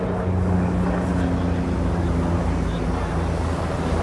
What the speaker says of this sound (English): I'm actually hearing a helicopter, which is very rare, and there it is right there.